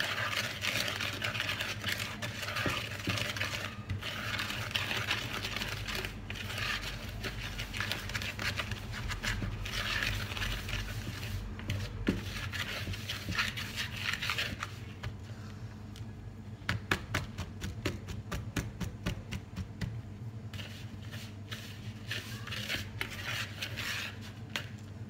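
A whisk clatters steadily against a bowl, beating a cornstarch mixture for pastry cream in a continuous, fairly quiet scraping rhythm at close range.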